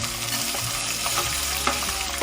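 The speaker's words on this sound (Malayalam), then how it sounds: "അപ്പം നമുക്ക് നമ്മുടെ ചെറിയുള്ളി ഇട്ട് കൊടുക്കാം" Shallots and coconut fry in a pan with a steady, close sizzle, and stirring scrapes and clatters through it on a low hum. Nobody speaks.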